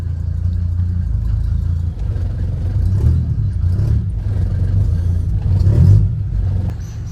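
A 40-year-old Mercedes W124 with no silencer fitted idles loudly and roughly at close range, swelling twice into brief throttle blips over its constant engine drone.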